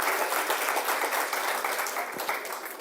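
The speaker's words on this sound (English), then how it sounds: "why don't we give another round of applause to this amazing, enlightening, wonderful panel of women" Steady applause fills the room for a panel of women at a community event in Trenton, dense and sustained, tapering slightly toward the end with no talk over it.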